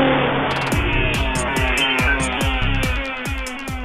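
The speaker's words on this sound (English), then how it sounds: "So let's go for a ride in this, the Outlander XLS V6" A 2009 Mitsubishi Outlander XLS V6 accelerates on the road, its engine revving up through several quick gear changes in a rising, repeating pattern, loud and close with a steady rush of road and wind noise.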